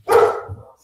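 A single sharp dog bark close by, loud and brief, followed by a softer trailing low note as it fades.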